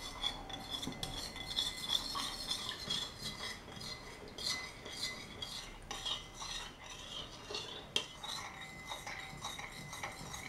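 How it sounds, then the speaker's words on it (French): Calcium lactate being stirred into water to dissolve it, a steady run of clinking, scraping utensil strokes against a container, close and moderately loud with a few sharper knocks, no voices. "Je vais mélanger jusqu'à ce que ce deuxième sachet soit complètement dissous dans l'eau."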